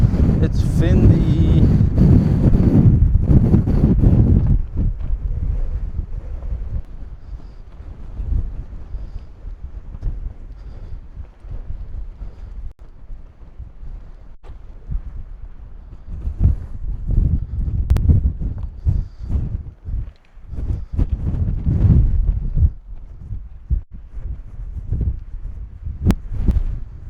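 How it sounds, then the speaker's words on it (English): Wind buffets an outdoor microphone while cycling a windy gravel track in Ireland, a broad low roar that swells loudly at the start and again in gusts near the end, with a voice talking at times. "If you can't hear that wind, that mic is amazing."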